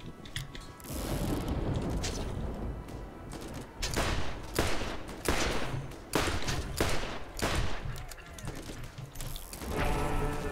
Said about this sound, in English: There's stuff in the air shooting me.